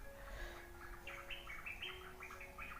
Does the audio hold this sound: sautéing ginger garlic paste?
no